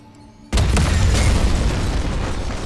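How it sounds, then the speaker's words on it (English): A video-game explosion in The Stanley Parable bursts suddenly into a loud, sustained roaring rumble that fills the rest of the moment, with no talk over it. "Take cover and detonate."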